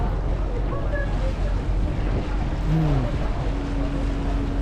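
Boat travels along a river toward Asiatique The Riverfront in Bangkok, giving a steady engine drone with wind and water wash. A short horn-like tone is heard partway through, along with faint background voices.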